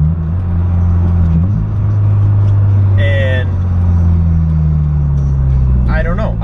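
A Subaru BRZ fitted with an Invidia N1 exhaust drones steadily inside the cabin while driving, a loud low rumbling tone that slowly shifts in pitch, with brief bits of voice over it.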